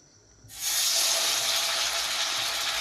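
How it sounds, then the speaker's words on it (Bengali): Chicken pieces drop into a hot pan and start sizzling abruptly, a loud, steady hiss that holds evenly close up after a brief quiet start. "আমি এখানে রেডি করে রাখা চিকেনগুলো একটা একটা করে দিয়ে দেব।"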